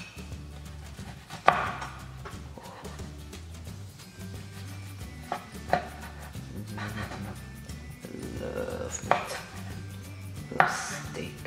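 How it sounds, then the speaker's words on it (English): A knife chops burrito filling into small cubes on a cutting board in a small kitchen, giving several sharp, uneven knocks against the board over a low background hum. "we are going to start cutting it up into smaller pieces"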